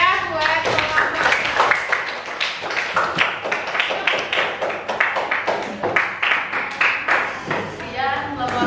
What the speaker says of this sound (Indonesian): kita beri tepuk tangan yang meriah buat kelompok